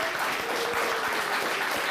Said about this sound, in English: A round of applause for Marilyn, everybody